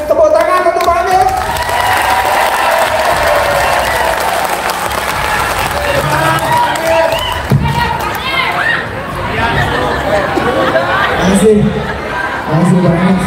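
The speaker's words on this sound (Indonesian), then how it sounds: "tepuk tangan untuk Pak Anies" A crowd of traders at a national leadership meeting applauds Anies Baswedan, loud sustained clapping mixed with cheers and chatter for the full stretch, fairly close and dense throughout.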